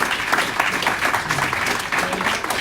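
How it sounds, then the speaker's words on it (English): An audience at a business briefing event applauds a speaker, dense steady clapping filling the room throughout with no break. "A round of applause for"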